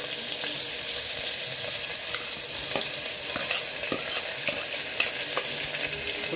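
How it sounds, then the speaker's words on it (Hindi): Chopped onions fry in hot oil with bay leaves and whole cumin, giving a steady close sizzle with occasional stirring clicks and scrapes throughout. "अब डाल लेते हैं प्याज, जिसको छोटा छोटा काट लिया है।"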